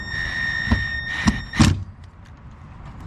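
Door handle mechanism on the front door of a 1995 Toyota Corolla being worked, three sharp mechanical clunks in quick succession, the last the loudest, over a faint steady hum.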